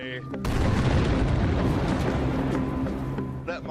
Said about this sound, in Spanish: Aquí realizamos varias explosiones al día.